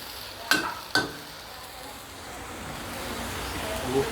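Green onions and sun-dried pork stir-fried over high heat. Two sharp utensil clanks open the sound, then a soft, steady sizzle and hiss follows, fairly quiet and close.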